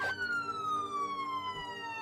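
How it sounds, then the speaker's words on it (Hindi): An ambulance siren wails with a single long falling tone, heard fairly faint and alone without talk, its pitch sliding steadily downward as the vehicle draws away. "और कुछ ही देर में एम्बुलेंस वहां पहुंच गई।"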